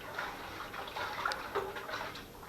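Hot water being poured and stirred into cooled burnt honey for mead, a steady close splashing and trickling wash with faint clinks, continuous throughout with no talk.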